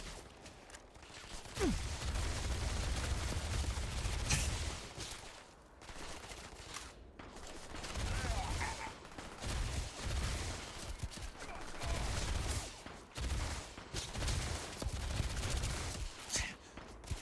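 A full-auto gun fires in bursts in Starfield, loud rattling volleys separated by short pauses, joined by a few mechanical clanks.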